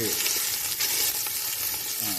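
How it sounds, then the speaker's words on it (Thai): Loud sizzling and crackling of Thai curry paste for cassia-flower curry frying in hot oil in a large pot, with brief scraping as it is stirred. "เอาพริกแกงใส่ลงไปผัด"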